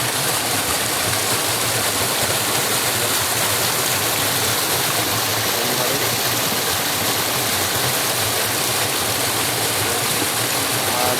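A clear river stream rushes steadily over rocks, producing a loud, continuous broadband wash of flowing water with no break, close to the listener.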